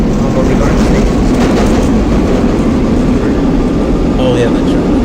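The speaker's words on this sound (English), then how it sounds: "Oh yeah, the train." A 4 Line subway train in the OpenBVE simulator rumbles loudly and continuously, a dense low roar with faint rattling running steadily throughout, and no voice clearly heard over it.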